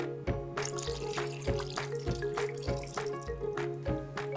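Water splashes into a pressure cooker already holding penne pasta, garlic and herb rub and a jar of marinara sauce, pouring in uneven gulps and glugs with a rhythmic pulsing, close and fairly clear.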